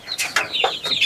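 Chickens about six weeks old cluck and squawk in an upstairs poultry house on a small-scale farm, several quick, close bird calls overlapping in a short burst.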